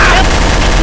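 A short, dense burst of gunfire in the multiplayer game Trouble in Terrorist Town, loud and continuous for under a second, with a voice partly mixed in.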